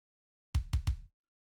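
Three tight, punchy kick drum hits from a sample in Logic Pro X, tuned down slightly for a deeper tone, played in quick succession with short decays and no other sound.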